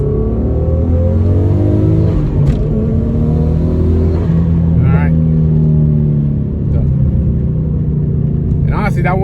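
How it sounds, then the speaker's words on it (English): A twin-turbo V6 car pulls hard at wide open throttle through a quick second and third gear, its loud engine note climbing, dropping at each shift and rising again, with a person talking over it. "just a quick second and third, just wide open throttle does"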